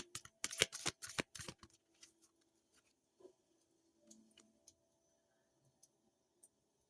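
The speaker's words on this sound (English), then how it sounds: "Okay, I'm going to cut the deck." A tarot deck being cut and shuffled up close: a quick burst of riffling card flutters and clicks over the first two seconds, followed by a few scattered soft taps and card handling in near silence.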